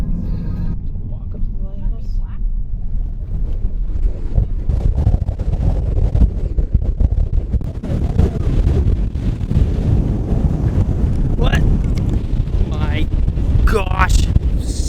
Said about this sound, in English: Gosh, so windy.